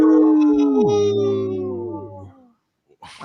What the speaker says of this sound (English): that sounds like a good, strong wolf pack, and there were extra wolves around